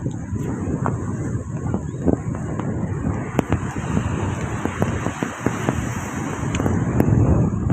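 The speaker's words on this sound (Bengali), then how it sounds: "এই যে প্রচন্ড বাতাসে সমুদ্রে ঢেউ উত্তাল করছে।" Steady gusting wind roars over the microphone with a rough rushing wash of surf beneath it, continuous and fairly loud.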